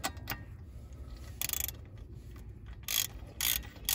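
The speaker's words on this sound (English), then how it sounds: "So just tightening them up, getting them there into position with the ratchet." A ratchet with a 19 mm socket snugs the H&R wheel spacer bolts on a Jaguar XFR, giving short, close bursts of quick clicking separated by brief pauses against a quiet workshop background.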